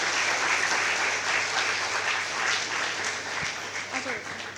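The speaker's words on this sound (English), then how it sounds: "We have one huge round of applause for Rachna ma'am." Sustained applause from an audience at an education event, a dense even wash of clapping that holds steady throughout with a voice faintly mixed in.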